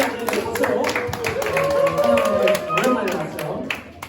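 Applause at a Korean church high-school worship service, a crowd clapping steadily for a returning third-year student, with a voice speaking over it.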